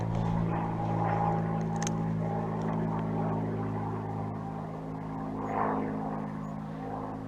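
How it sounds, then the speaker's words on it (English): A propeller airplane drones overhead at an outdoor shooting range, a faint steady hum that swells and fades slightly, with no other sounds. "Don't mind the plane flying over during my video."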